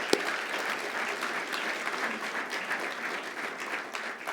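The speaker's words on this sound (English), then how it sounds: "So let's give them a round of applause." Continuous audience applause at a company meeting, a steady wash of many hands clapping at moderate distance with a few sharper individual claps standing out.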